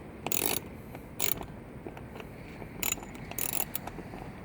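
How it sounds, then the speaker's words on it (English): A T40 driver tightens the bolts on a passenger backrest for a 2017 Can-Am Spyder F3T. Short bursts of metallic ratcheting come in several separate runs over a faint steady background, close, with no voices. "Continue using the T40, and I just tighten it up."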